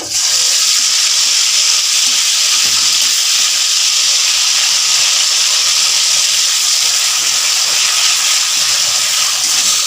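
Onion paste sizzling loudly in hot oil in a cold home kitchen, a steady dense hiss running unbroken from start to finish.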